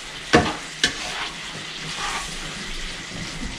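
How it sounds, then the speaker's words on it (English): Pasta being stirred with mud crab in a frying pan, with two sharp scraping knocks near the start, then a steady soft sizzle and faint stirring rustle. "Give it a stir around."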